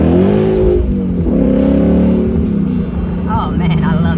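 A 2017 Ford Mustang GT fastback with its 5.0L V8 pulling in second gear, a loud low engine drone that rises and falls, heard from inside the car with someone talking over it.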